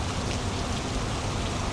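Steady, dense rain pours without a break in the Truckers of Europe 3 driving game, a close, even hiss of drops with no talk over it.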